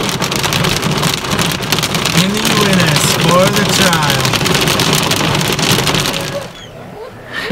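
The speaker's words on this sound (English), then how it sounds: "it's officially hailing." Hail pounding down on a truck hauling a fifth wheel dog trailer at a retriever field trial, a dense steady clatter on the roof and window that drops off at the end, with a voice talking over it.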